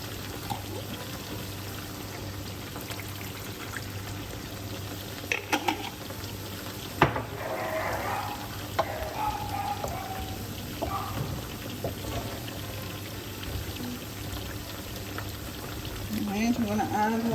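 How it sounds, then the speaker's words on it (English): Coconut milk is poured into a simmering mushroom sauce with chicken meatballs in a pan, a soft liquid gurgle over a constant sizzling hiss, with a voice talking at times. "I'm going to add some coconut milk."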